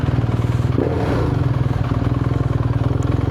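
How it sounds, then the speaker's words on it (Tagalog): A motorcycle engine idles close by with a fast, even chugging pulse and a brief rev near the start. "Sarap-sarap ng tunog ng motor ko ngayon ah."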